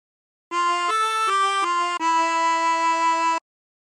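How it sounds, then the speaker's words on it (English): A short phrase of a song on a 24-hole tremolo harmonica: several quick stepping notes, then a longer held final tone, all reedy and shimmering, played close and alone. "And practice this until you end up with something that sounds like this."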